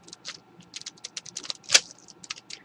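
A Mirror Blocks puzzle cube is turned quickly, its pieces making a rapid run of light plastic clicks and clacks, with one sharper snap as a corner cuts through. The sound is close and quiet.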